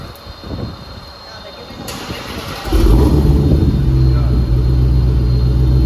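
A Dodge Challenger Hellcat engine settles into a deep, loud rumbling idle after a quieter stretch of background noise and voices, the low throb steady and close.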